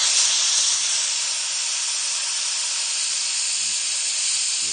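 Hot steam hisses steadily as a heated exhaust valve spring on a restored Grey motor manifold is cooled down, one loud continuous broadband rush that holds evenly from start to finish.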